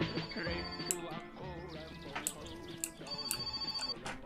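A telephone rings inside the video game My Summer Car, repeated electronic ring bursts with bright high tones, heard over a steady background drone at moderate level.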